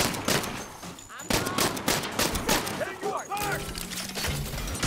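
Repeated bursts of gunfire in the video game Saints Row, sharp loud shots coming in clusters throughout, mixed with game sound effects and voices talking over the fighting.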